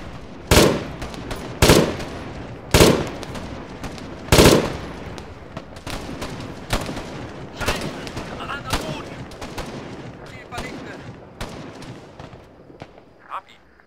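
Gunfire in the military shooter game Arma 3 with German weapons: four loud, sharp shots in the opening seconds, then a run of quieter, more distant shots scattered through the rest of the clip, with faint talk in the background.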